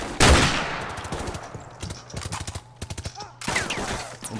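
Gunfire in the video game Call of Duty: Modern Warfare, with a loud close shot followed by rapid bursts of automatic fire and sharp reports over several seconds.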